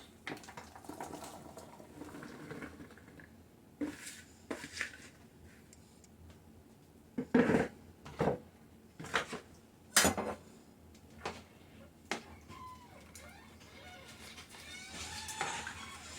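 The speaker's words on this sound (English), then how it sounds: "Now, it's time to add the onions, the potatoes, and the mushrooms." Onions, potatoes and mushrooms are dropped into a pot of old-fashioned hamburger stew, producing a scattered series of sharp clinks, clatters and knocks from utensils and the pot, some loud and close, with quiet pauses between.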